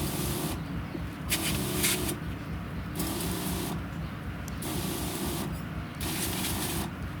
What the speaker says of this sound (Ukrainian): Зараз включаємо оприскатель.